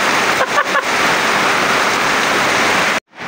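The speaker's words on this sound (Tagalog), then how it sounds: "Yan ang dami ko na ipon tubig di ba? Puno yan, puno. Ayan, galing gripo." Tap water pours steadily into a storage container, a dense rushing splash filling the clip close up, with a few brief dips early on before it cuts off abruptly near the end.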